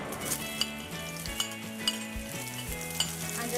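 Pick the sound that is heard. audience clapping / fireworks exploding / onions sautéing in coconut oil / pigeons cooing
onions sautéing in coconut oil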